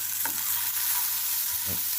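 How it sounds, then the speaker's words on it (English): Onions frying in a pan after liver, stirred briefly with a couple of soft scrapes over a steady background sizzle, no talking. "I've dropped in 2 medium onions. I'll just give them a wee bit of a stir."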